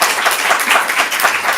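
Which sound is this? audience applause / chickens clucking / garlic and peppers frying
audience applause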